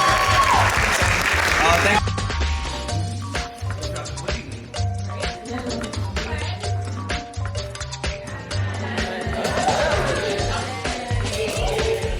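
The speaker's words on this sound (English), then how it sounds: "round of applause for y'all selves real quick" A panel audience at DreamCon 2023 claps in loud, sustained applause that fills the room, with cheers and voices mixed in and talk around it.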